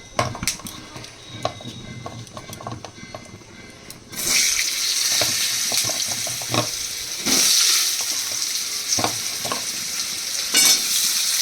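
Potatoes dropped into hot oil in a pan while cooking a fish curry, starting with light clatter and stirring, then a sudden loud sizzle that keeps going with surges as they are stirred.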